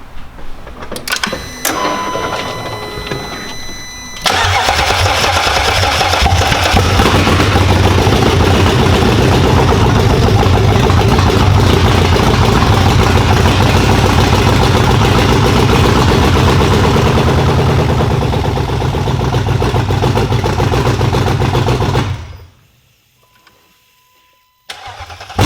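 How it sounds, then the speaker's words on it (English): A big rebuilt BMW N62 V8 car engine cranks briefly, catches and roars into a loud, steady rumbling idle that runs for many seconds before cutting off abruptly. "let's give it a try and see how loud it is, and especially is it going to start."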